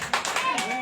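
A congregation claps loudly in a church service in a short, fast burst of several claps, with a voice speaking over it.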